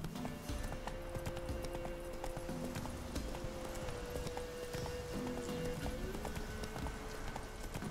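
Roach, Geralt's horse in The Witcher 3, gallops with a steady stream of quick hoof beats that run unbroken over a low musical drone and outdoor ambience throughout.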